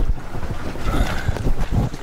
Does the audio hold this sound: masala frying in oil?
no